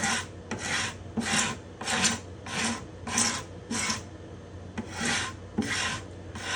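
A steel scraper rasps across the spruce top of a guitar over its bindings and purflings, about ten rhythmic scraping strokes, close and fairly steady with brief gaps between passes.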